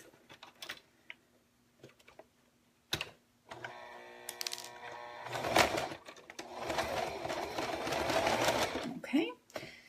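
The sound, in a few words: sewing machine stitching a paper-pieced quilt block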